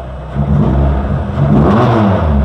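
A Honda Jazz rally car fitted with a K24 engine revs loudly and close by, a sustained rough roar that climbs and swells through the clip with no talk over it.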